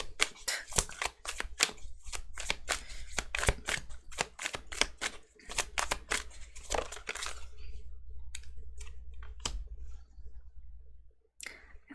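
Rapid bursts of tarot card shuffling, crisp riffling clicks in quick clusters, then sparser taps and a few pauses, close up over a low steady hum.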